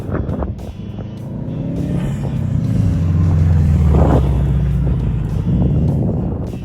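Subaru WRX with a manual transmission driven at an autocross event, its engine droning steadily and building to a loud, sustained roar before easing slightly, close by with no talk.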